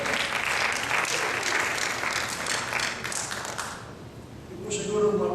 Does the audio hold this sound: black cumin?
no